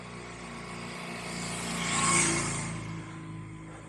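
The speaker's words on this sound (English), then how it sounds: "We got a motorcycle coming." A motorcycle passes by, its engine swelling from a distant drone to a loud peak near the middle and then fading away, with no talk over it.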